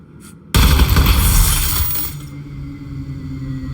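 A power plug is shot and blows out in the video game Aperture Desk Job, giving one sudden loud bang with a burst of crackle that fades into a low humming rumble and lingers for a few seconds, with no voices.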